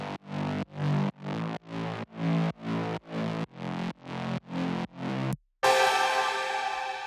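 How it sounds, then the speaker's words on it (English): A Serum synth bass layer with overdrive, slightly detuned stereo, plays a run of evenly spaced distorted notes in a steady pulse, then breaks off briefly before a brighter sustained overdriven tone. "The other layer is a serum bass."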